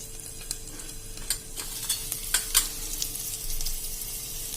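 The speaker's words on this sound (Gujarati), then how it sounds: "2 લીલા મોરા મરચા લીધા છે ને 4 થી 5 લીમડાના પત્તા છે એ નાખી દેશું અને એને આપણે થોડીક વાર થાવા દેશું સ્લો ફ્લેમ ઉપર જ" Green chilies and curry leaves frying in oil over a slow flame for a Gujarati tuvar dal tempering, giving a soft steady sizzle with faint crackles and a few brief pops and stirring scrapes, close and alone.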